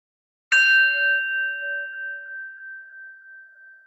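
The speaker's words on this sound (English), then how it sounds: "and then taking the sound of the bell," A single bell struck once in a quiet yoga setting, a bright ding with a clear ringing tone that slowly decays over several seconds.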